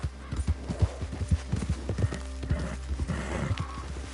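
Horse hooves clip-clop in a steady, close rhythm in the Red Dead Online game world, with a soft snort or whinny mixed in over a low ambient hum.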